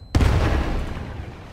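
A gun fires in the video game Battlefield 1, heard as a single sudden loud boom that rolls off into a long, deep rumbling tail.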